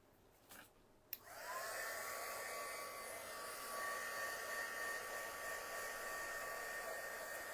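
A hair dryer switches on after a couple of soft knocks and then blows with a loud, steady whir, held alone without pause to the end.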